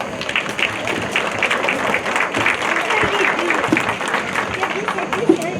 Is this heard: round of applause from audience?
yes